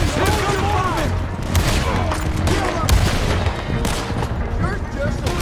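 Rapid, overlapping gunshots in a video-game shootout from Red Dead Redemption 2, dense irregular cracks and booms firing close and loud, with shouted voices mixed into the chaos.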